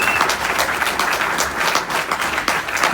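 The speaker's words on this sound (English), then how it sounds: "One more round of applause for our speakers." A close, loud round of applause for speakers at the Anarchadelphia 2019 conference, dense and steady clapping from a crowd throughout.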